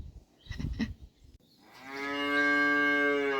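A cow on a cattle farm moos once, long, loud and close, after a few soft thuds and rustling.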